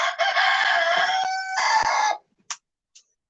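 A rooster crows loudly and close by for about two seconds in one long, harsh call, then a couple of short faint clucks follow in near silence.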